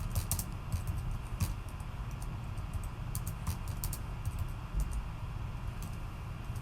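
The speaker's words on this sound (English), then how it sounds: "Apologize for the typing there." Rapid typing on a computer keyboard, a steady stream of close, light clicking keystrokes in irregular bursts over a low room hum.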